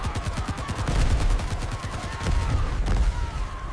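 Sustained bursts of suppressing gunfire in a chaotic battlefield scene, rapid overlapping shots rolling continuously at close range with dense, loud rumbling low end.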